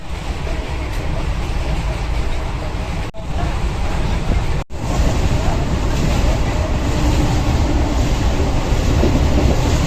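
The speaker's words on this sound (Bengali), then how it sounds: "এটা হচ্ছে আমাদের ট্রেন" A passenger train standing at a railway station platform, a loud steady rumble of idling engine and carriage noise close by, with brief dropouts and faint background voices.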